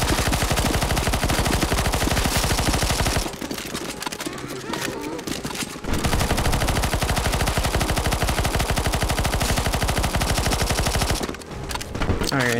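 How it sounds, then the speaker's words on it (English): Rapid automatic gunfire from the CS:GO zombie escape map ze_Desperate_Soul, dense and continuous, easing briefly twice before resuming at full loudness. "Don't worry, I can keep shooting."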